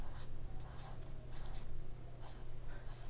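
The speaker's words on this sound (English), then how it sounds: "when you use the broad tip, you can vary the type of line that you make" Broad-tip art marker drawing lines on paper: short, close scratchy strokes in a loose repeating rhythm over a low steady hum.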